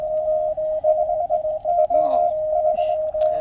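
A steady single-pitched electronic tone beeps in short Morse code bursts, with brief faint radio chirps breaking in near the end.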